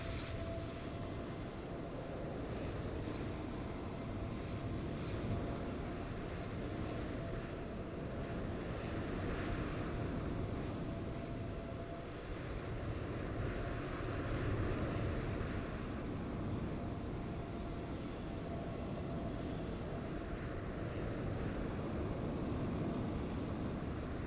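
Fenix A320 airliner taxiing in Flight Simulator 2024, a steady, loud jet engine rumble and whine holding evenly throughout with no talk.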